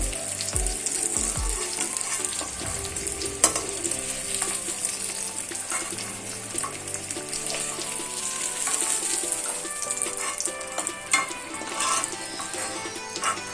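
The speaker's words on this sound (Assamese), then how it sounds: "পনীৰ আৰু পটলখিনি ফ্ৰাই কৰি ললো" Paneer and pointed gourd pieces frying in a pan, a continuous crackling sizzle that runs throughout at moderate loudness, with a few brief clinks and stirring sounds.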